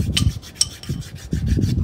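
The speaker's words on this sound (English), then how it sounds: "At this point, I'm just kind of hand sanding it, doing some fine tuning." A MiG-15 scale model is hand sanded with 80-grit sandpaper glued to paint stir sticks, producing a few close, loud, raspy rubbing strokes in a back-and-forth rhythm.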